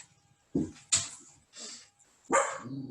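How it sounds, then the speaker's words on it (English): A dog barks four times at irregular intervals, sharp close barks in an otherwise quiet room with a faint background tone, no talking. "Oops, sorry, that's my dog."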